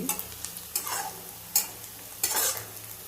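Chopped onion fries in a pan for upama, a steady sizzle under repeated scraping stirs that come in four distinct sweeps, close and fairly loud with no voices.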